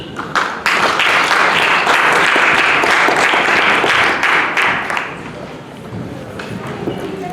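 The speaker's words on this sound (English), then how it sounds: "Please give a round of applause." A loud, dense wash of applause welcomes two speakers onto a stage at a tech conference, holding strong for several seconds before thinning out, with voices heard underneath.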